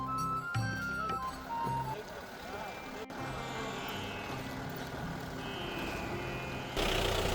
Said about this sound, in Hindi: आप देखिए गाड़ी किस तरह से पार हो रही है